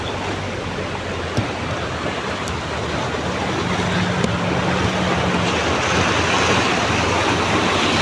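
Deep floodwater churning in waves like the sea, a loud, steady rushing wash that fills the whole stretch, with a low hum and occasional knocks beneath it.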